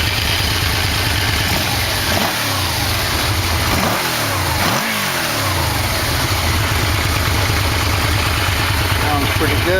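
A Yamaha V-Max 1100 motorcycle engine runs close by at a steady, loud idle with a brief throttle dip and recovery partway through, the carburetors freshly synced.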